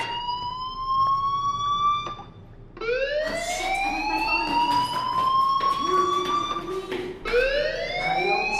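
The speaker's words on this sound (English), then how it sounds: "do you hear that fire alarm?" A fire alarm wails in the video game Life is Strange: Chrysalis, loud and close, its rising electronic tone repeating in long sweeping cycles with brief pauses between them.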